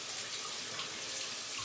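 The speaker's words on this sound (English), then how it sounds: "I'll put just a touch of water on" A tap runs at a steady, close splashing flow with no pauses and no voices.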